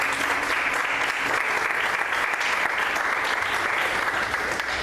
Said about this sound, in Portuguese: Você pode aplaudir mais uma vez o Senhor, queridos?